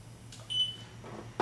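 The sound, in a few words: Accu-Chek glucose meter beeping after scanning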